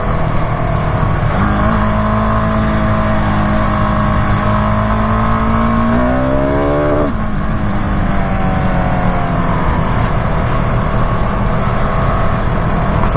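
A 2019 KTM SMC R single-cylinder motorcycle engine revs close and loud, its pitch climbing steadily under acceleration, dropping briefly at a gear change, then rising again with constant wind and exhaust roar.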